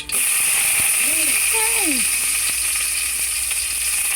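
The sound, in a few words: garlic sizzling in hot cooking oil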